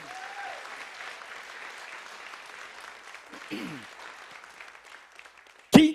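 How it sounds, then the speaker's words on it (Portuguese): Church congregation at a celebration service giving modest, fairly distant applause, with a sharp loud knock near the end. "Você pode aplaudir ao Senhor?"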